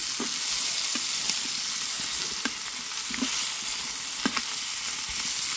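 Food fries in a generous amount of oil, a steady close sizzle broken by occasional crackles and soft stirring taps, with no talking.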